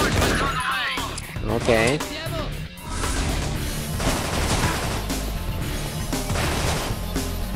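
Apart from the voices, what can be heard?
Hellfire weapon shots in Infernal video game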